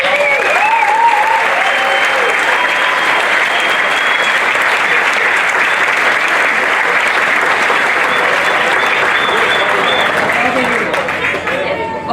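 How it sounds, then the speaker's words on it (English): Crowd applause at a Hobie 16 sailing world championship prize presentation, loud continuous clapping for about twelve seconds, steady throughout and thinning slightly at the very end. "let's give them a round of applause"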